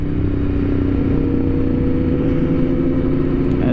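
Aprilia RSV4 RR motorcycle being ridden, its engine holding a loud, steady, buzzing drone up close with a slight rise in revs at the end, no talking.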